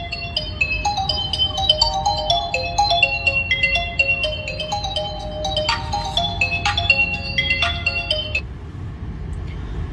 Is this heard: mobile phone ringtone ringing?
yes